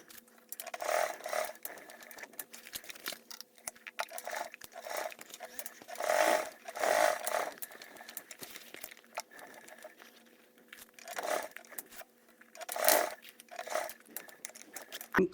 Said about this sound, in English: we are just sewing it on with a 1/8 seam allowance